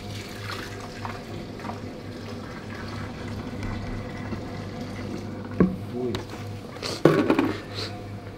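Seawater poured into a saltwater aquarium over sand, a low running splash that builds into louder gushing bursts near the end, with talk going on throughout.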